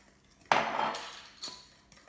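Clinking of a utensil against a bowl while biscotti dough ingredients are mixed, two short sharp knocks with brief ringing tails, close and otherwise quiet.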